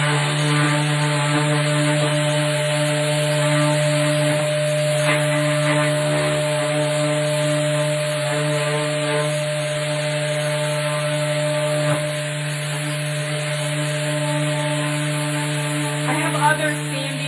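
An electric sander working on wood, a steady loud droning whine with a strong constant hum that runs unbroken for the whole stretch, close to the listener.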